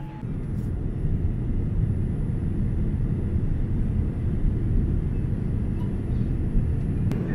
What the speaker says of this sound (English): We're about to start taxiing out to the runway here.